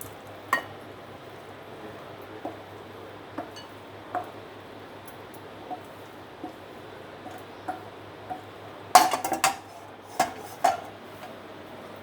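Cabbage mustard curry is moved from a pan into a bowl with utensils. Spaced, faint taps and scrapes of a spoon against cookware end in a short cluster of louder metallic clinks.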